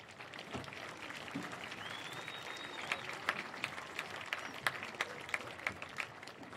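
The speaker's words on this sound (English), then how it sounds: "Please join us in giving our officials a round of applause" Crowd at a high school football game between Grand Rapids Christian and South Christian applauding the officials, a steady spread of clapping with scattered sharper claps rising out of it and a brief whistle-like tone in the middle.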